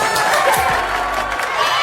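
A crowd at a business motivation seminar claps and cheers in a short, loud, dense burst, with shouts mixed into the noise.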